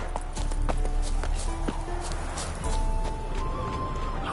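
Roach, a horse in The Witcher 3, clip-clops along with a steady rhythm of close, crisp hoofbeats over continuous game ambience, with no talking.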